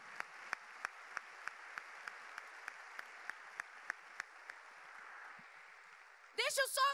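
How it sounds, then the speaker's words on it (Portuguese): A church congregation applauds during an evening service, moderately loud, with distinct sharp claps standing out over the general clapping. It fades after about five seconds and is followed by a short burst of voice. "Vamos aplaudir a Deus por isso nessa noite."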